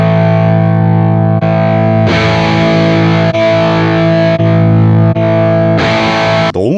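Electric guitar played through a Quad Cortex Mini on its Marshall Plexi 100W normal-channel amp model, loud and distorted, with sustained chords struck again every second or so and no talking.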